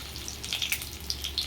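Whole spices dropped into two tablespoons of hot oil for tempering vadacurry, giving a soft, steady crackle and sizzle with small pops, fairly quiet and close, with no talking.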